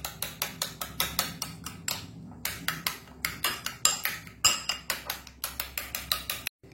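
Eggs for spinach egg rolls, seasoned with pepper powder or green chili, are beaten in a bowl with rapid, regular clinking strokes, about three per second, close and crisp, with a short pause before a final stroke.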